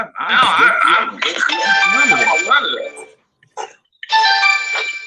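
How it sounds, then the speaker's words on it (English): A mobile phone rings with a melodic tone in repeated phrases that break off and resume, loud and close, while a voice speaks over it. "that was my phone"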